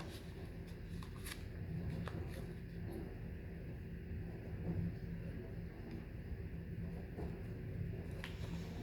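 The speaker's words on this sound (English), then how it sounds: "let's shuffle the cards" Soft, papery riffling of a deck of cards being shuffled, quiet and close, with brief clicks over a low rumbling background.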